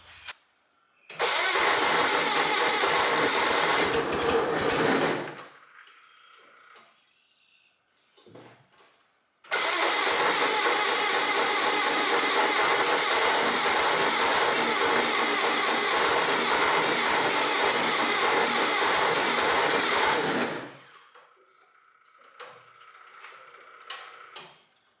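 A Ford CL-20 skid loader engine cranks over in two long, loud, close bursts of steady starter churning, about four and ten seconds long, with clicks and quiet between.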